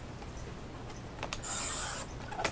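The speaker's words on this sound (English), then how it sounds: "I'm going to cut a little on the left. And I'm going to cut a little on the right." Scissors cutting and trimming a paper bag for a handmade journal, soft close snips followed by a longer rasping slide of paper.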